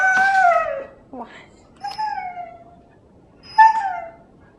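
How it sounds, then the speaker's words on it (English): A pet puppy dog howls and whines in three drawn-out, falling cries, loud and close, with brief pauses between them and a short yip in the middle. "There's my puppy dog."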